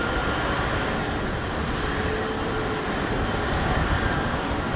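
A BA airliner in One World livery roars at London Heathrow Airport, its engines a steady, broad rumble that stays loud and close throughout with no speech.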